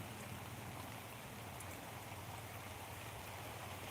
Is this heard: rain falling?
yes